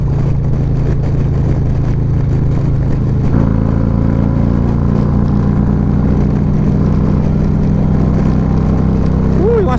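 Harley Street Glide CVO motorcycle riding at speed on the road, a loud continuous engine drone with heavy wind roar that shifts slightly partway through.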